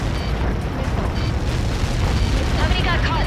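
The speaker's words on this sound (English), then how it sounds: "How many got caught in that explosion?" A massive explosion in the jet combat game Ace Combat 7 produces a dense, roaring rumble that runs continuously and loud through the whole clip.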